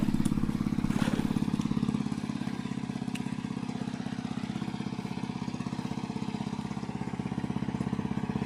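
A small single-cylinder hand tractor engine chugs steadily nearby in a rice paddy with a rapid, even putter and some mechanical clatter, running without letup.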